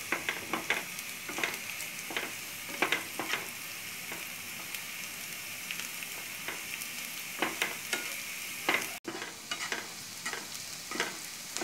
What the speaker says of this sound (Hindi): लो फ्लेम में मसाला को पहले फ्राई कर लेती हूँ